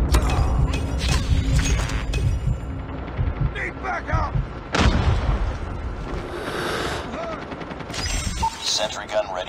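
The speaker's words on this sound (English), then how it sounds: "Sentry gun deployed." Automatic gunfire from a deployed sentry gun in a Call of Duty shooter, rapid bursts rattling on through dense game noise, explosions and in-game voice callouts.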